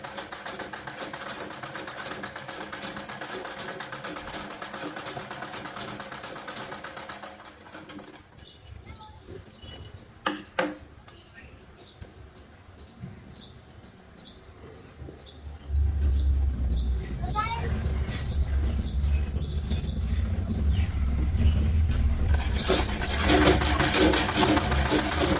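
Close-up whir of a sewing machine stitching a hidden inner seam on a simple blouse, running in bursts between pauses, then settling into a louder, steady drone near the end, with someone talking at intervals.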